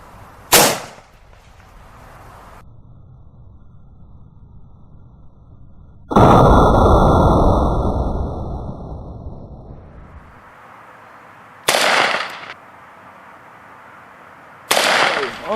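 A 7.62x39 rifle loaded with Hornady Black ammunition fires into wood at about 50 yards on an outdoor range: four loud, sharp reports spaced several seconds apart, each trailing a brief echo.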